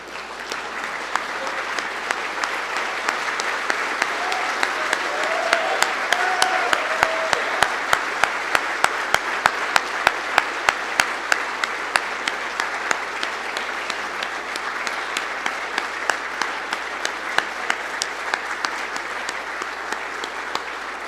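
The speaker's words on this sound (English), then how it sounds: "So if everybody could stand up for one last round of applause" Audience at a college football awards banquet giving a long standing round of applause, dense and continuous with some sharp individual claps standing out near the recording point.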